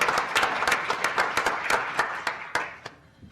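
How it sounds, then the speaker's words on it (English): Scattered clapping from a modest audience honouring student volunteers, a handful of distinct sharp claps in loose rhythm that thin out and fade toward the end. "you guys give them a round of applause"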